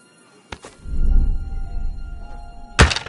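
Arrows loosed in Kingdom Come: Deliverance II strike wood: a sharp thunk, a rumbling thud after it, and a second loud impact near the end, each close and distinct.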